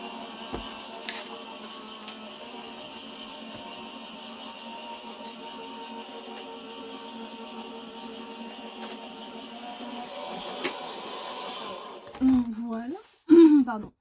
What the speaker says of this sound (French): Et je passe dans ma machine. Bon, je coupe pas, vous allez l'entendre.